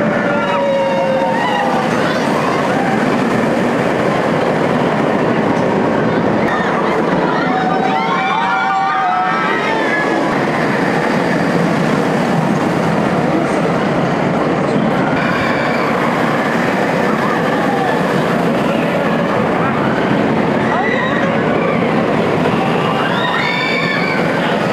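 At Alton Towers, the Air flying roller coaster rushes past in a continuous loud roar of wheels on track, with screeching and rattling layered in and distant voices in the background.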